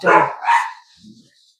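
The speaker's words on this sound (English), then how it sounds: "two people have just walked by the bungalow with their little dog. When they hear that, they start barking." A little dog outside a bungalow lets out two quick, sharp yaps as people pass by, followed by a faint low whimper trailing off.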